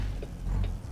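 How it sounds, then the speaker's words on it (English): Truck transmission gears grinding in American Truck Simulator, a short mechanical ratcheting crunch over a low steady engine rumble, lasting about a second with no talk. "Oh, grinding gears."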